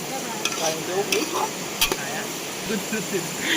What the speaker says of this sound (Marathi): कांदा फ्राय झाला आहे